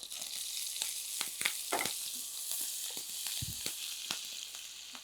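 Steady sizzling of chopped green chillies frying in hot ghee with cumin, with scattered crackles and pops close by, no voices.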